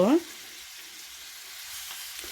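Green chillies and curry leaves fry in a pan for a Tamil vegetable curry, giving a soft, steady sizzle close by after a brief voice at the very start.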